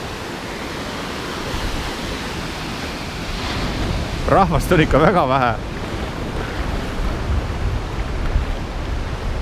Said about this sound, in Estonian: Ja näete, lained ei ole üldse suured